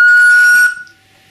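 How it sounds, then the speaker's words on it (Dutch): A handmade ceramic whistle gives a loud, steady pure tone that holds for about two-thirds of a second and then stops sharply, leaving near silence. "Als ik nu blaas, zou ik een toon moeten krijgen."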